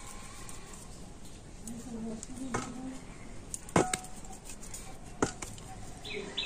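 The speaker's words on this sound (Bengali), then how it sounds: "তো দেখুন আমি এরকম ছোট ছোট করে লেচি কেটে নিচ্ছি।" A knife cuts sugar-free wheat-flour (atta) dough into small equal portions for sweets, giving a few sharp, separate chopping taps against a faint, steady background hum.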